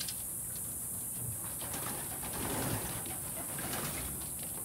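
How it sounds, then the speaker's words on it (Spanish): Young racing pigeons cooing softly while bathing on a hot day, low gentle coos repeating over a steady background hiss, close and unhurried with no talk. "Ahí están los pichoncitos disfrutando su baño."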